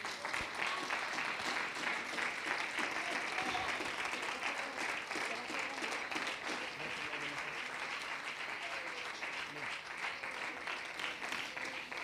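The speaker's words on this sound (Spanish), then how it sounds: "¿Cuánto le dan un aplauso al Señor?" A crowd applauds steadily for several seconds, a dense wash of clapping at moderate volume, with faint voices mixed in.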